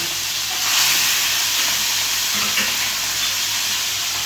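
Pieces of rohu fish rubbed with salt and turmeric are slid into hot oil. They set off a loud, close, continuous sizzle and hiss that swells briefly early on, then settles into steady frying.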